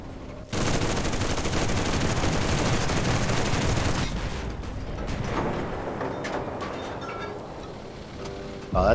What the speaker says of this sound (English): Oh, that's an enemy artillery strike